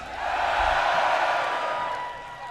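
A festival crowd at Bloodstock, a metal concert, roars and whoops in a loud, sustained swell that rises quickly, holds, then fades slightly toward the end.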